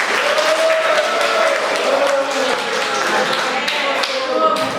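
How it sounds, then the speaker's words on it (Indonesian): Classroom applause from students during a university teaching session, a steady dense patter of clapping lasting the whole stretch, with a teacher's voice speaking over it. "Bagus, tepuk tangan buat Anda."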